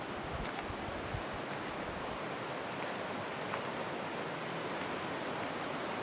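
Water flowing inside a huge cave in Laos, a broad steady rushing roar like distant rapids echoing through the space, continuous and moderately loud with no voices.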